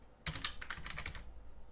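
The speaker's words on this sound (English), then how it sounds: "and I can type" Quick keystrokes patter on a computer keyboard, a short run of light clicks up close and fairly quiet, with no voices.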